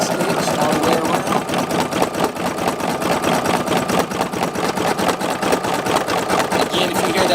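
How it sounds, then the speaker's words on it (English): An embroidery machine satin stitching a red border on a dense patch design chatters in a fast, steady rhythm, loud and close, running continuously throughout. "if you hear that popping noise, that's because it is overlapping and the design is pretty dense"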